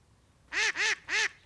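Three quick, loud duck quacks in an even rhythm, nasal and close, with nothing else around them.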